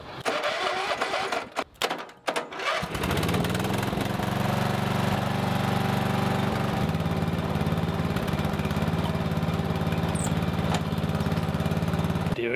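A garden tractor engine cranks with a few sputtering bursts, catches and settles into a loud, steady mid-pitched idle that runs on without a break.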